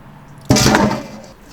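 Boiling water is poured over a softshell turtle to scald its skin: a brief, close gush and splash that starts abruptly, swells for a moment, then trails off into quiet.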